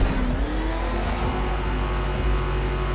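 The Batmobile from Batman Arkham Knight roars with a loud, steady engine revving that fills the whole stretch, with deep rumbling and rising whine throughout.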